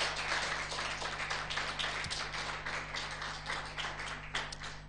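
A church congregation applauding, a steady, dense patter of many hands clapping throughout, with a constant low electrical hum underneath.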